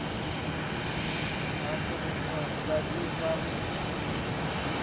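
Airliner engines at Sky Harbor International Airport produce a steady, broad roar at moderate distance, continuous throughout with a faint tonal whine, while people talk nearby.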